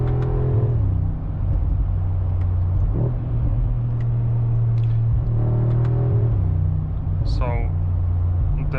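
A 2025 Mercedes-AMG G63 SUV's engine and exhaust accelerating, a steady low droning rumble with rising and falling pitch sweeps, close and loud throughout, with a person talking over it.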